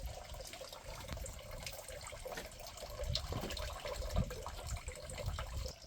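Water pours and splashes steadily into a stone tank at a hill fort, a continuous gurgling flow with a few louder splashes toward the end.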